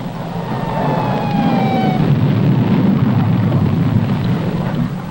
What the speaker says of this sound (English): What has exploded is the ordinary explosive, which is an essential part of nuclear weapons.